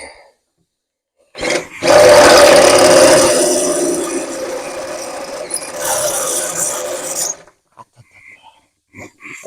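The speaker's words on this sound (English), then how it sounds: "Now we're going to use the reamer, but we got to go up from the bottom." A reamer boring up from below through a Mack Cruise Liner truck frame, a loud grinding power-tool roar that starts abruptly, holds for several seconds while easing slightly, then cuts off into a few faint clicks.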